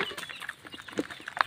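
Small chicks cheep and peep softly while pecking at feed, with a few sharper chirps near the end and a low clucking hen.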